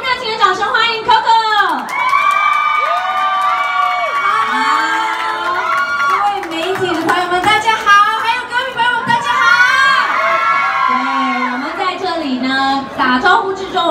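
A crowd cheers and shouts for a singer at an event at Taipei 101, loud whoops and excited voices swelling throughout, with a voice talking over it.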